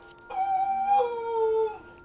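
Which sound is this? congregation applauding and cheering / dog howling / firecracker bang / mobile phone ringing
dog howling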